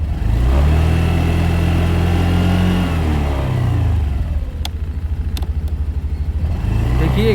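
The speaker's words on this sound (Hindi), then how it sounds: "मैं इसको थोड़ा सा रेप करके देखिए और उसके बाद देता हूँ छोड़।" A 2025 Honda Activa 125 scooter engine revs hard from close range, then the throttle is released and the revs fall away into a steady, pulsing idle.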